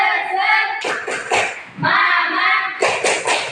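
A classroom of students performs the rhythmic Indonesian 'tepuk semangat' spirit clap, loud and close, with bursts of clapping alternating with group chanting voices.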